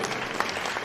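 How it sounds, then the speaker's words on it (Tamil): Audience at a live concert in Namakkal claps steadily to welcome a singer onto the stage, a dense wash of applause with no pauses. "உங்கள் பலத்த கைத்தட்டலோடு"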